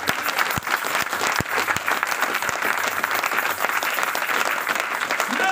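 A congregation claps in sustained, dense applause at a Christian mothers' seminar closing in a church, loud and steady throughout with scattered sharper claps and faint voices mixed in.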